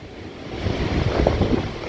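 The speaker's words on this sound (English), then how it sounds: "the sound of the ocean, I find it quite soothing" Ocean surf and gusting wind at Alexandra Headland beach on a morning walk, a steady loud wash of breaking waves with rumbling wind buffeting the microphone throughout.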